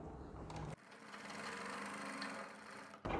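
A sewing machine stitches fabric in a fast steady whir, running close and loud for most of the stretch after a brief pause at the start.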